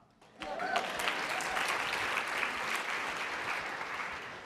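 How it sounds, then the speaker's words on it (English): An audience at a ride-sharing company presentation breaks into applause, a steady sustained clapping that begins abruptly and holds fairly loud and even for several seconds. "You can clap."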